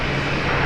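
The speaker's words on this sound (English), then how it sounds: "let's have a look at this Jetstar Dreamliner 66. touching down 66" A Jetstar Boeing 787 Dreamliner touching down at Brisbane Airport after a flight from Bangkok, heard as a brief, loud, steady jet rumble with no talking.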